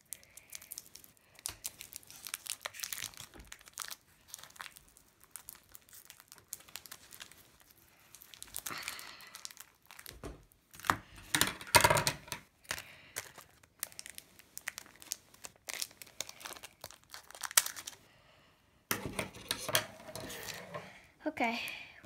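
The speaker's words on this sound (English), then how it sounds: "today we are going to open the X and Y Fates Collide Mega Zygarde pack" A Pokemon X and Y Fates Collide Mega Zygarde card pack being opened by hand, close plastic wrapper crinkling and tearing in bursts with pauses, under and between a person talking.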